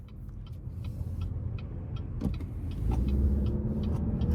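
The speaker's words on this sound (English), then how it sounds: "So I'll give it a little throttle here" A 2023 Chevrolet Malibu 2LT driving on the road, heard from inside the cabin as a low steady engine and road rumble that swells slightly as it gains speed.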